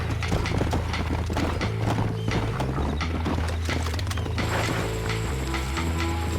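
Horse hooves clip-clop steadily in the Red Dead Redemption video game, loud and continuous over busy in-game mechanical and ambient sounds, with a brief whinny.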